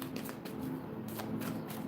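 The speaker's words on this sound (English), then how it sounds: "let me shuffle this one" A well-worn deck of cards being shuffled by hand, a soft continuous riffling and sliding of card stock heard up close for a couple of seconds with no talking.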